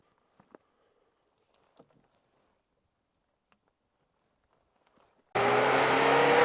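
A car engine catches on a mountain road in Azerbaijan, bursting into a loud, steady running roar after several seconds of near silence broken only by faint small knocks.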